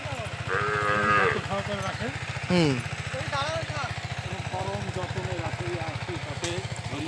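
A large herd of cattle brought home from grazing in a wetland moos again and again, with overlapping long, drawn-out lows near and far over a steady engine-like rumble, and voices talk among them.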